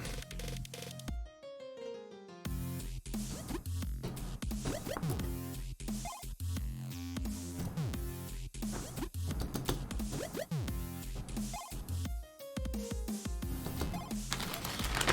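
Keycaps and stabilizers on a custom mechanical keyboard being tested, with dense, continuous clacking and rattling key presses up close, some thocky and some scratchy, running with hardly a pause.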